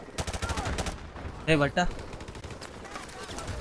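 Bursts of automatic gunfire crackle in Call of Duty: Modern Warfare Remastered, rapid shots in several volleys, with someone briefly talking over the shooting midway.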